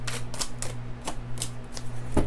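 A deck of tarot cards is shuffled in a run of crisp, papery riffling bursts that come in quick uneven clusters, close and moderately loud with no talking.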